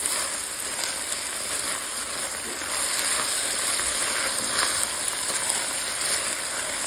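Vegetables sizzling in a pot at the start of a beef stock, a steady, even hiss of frying that holds at a constant level throughout with no voices.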